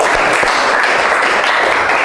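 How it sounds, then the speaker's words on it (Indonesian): A class of students applauds together, a steady dense wash of clapping that fills the whole moment without pause. "Oke, tepuk tangan."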